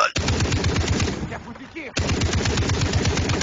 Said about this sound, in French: il y avait une mitrailleuse